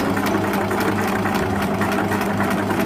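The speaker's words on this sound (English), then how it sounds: "I like to reverse the stitching back a little bit." A sewing machine runs steadily while stitching curtain fabric, a continuous close motor whir with a fast mechanical needle rhythm and no pauses.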